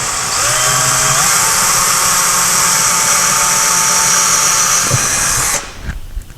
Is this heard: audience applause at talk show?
no